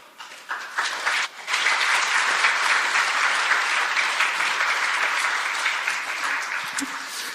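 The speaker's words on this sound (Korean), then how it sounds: "나오실 때 박수로 환영하겠습니다" A church congregation applauds to welcome the pastor, giving sustained, dense clapping from a large crowd that holds steady for several seconds before slowly tapering off.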